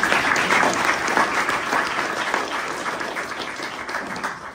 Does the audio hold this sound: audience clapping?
yes